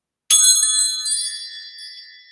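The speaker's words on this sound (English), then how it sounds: "let's call in spirit with a little bit of wind chime time" Wind chimes struck once, their bright metallic tones ringing out clearly and then slowly fading, close and alone with no voices.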